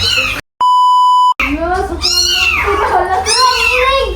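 Cats meow repeatedly at close range in a room full of belongings, several drawn-out, rising and falling cries filling the space. A loud electronic censor beep briefly cuts in near the start.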